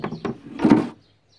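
Doors clattering and banging as they come loose and fall off: two quick knocks followed by a louder, longer crash, then silence.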